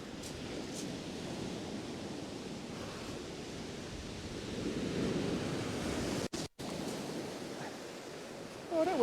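Steady wind and breaking surf on a winter beach at evening, a continuous loud roar of waves with gusting wind buffeting the microphone throughout.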